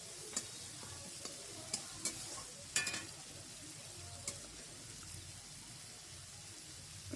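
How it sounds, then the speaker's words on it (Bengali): Spice paste being sautéed and stirred in a pan makes a quiet, steady sizzle, punctuated by sharp spoon-against-pan clicks and scrapes at irregular intervals. "ভালোভাবে কষিয়ে নেব মশলাটাকে"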